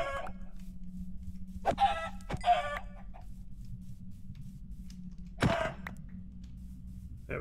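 Chickens in the Minecraft modpack FTB Skies cluck and squawk in a few short separate bursts over a steady low hum, with no talking.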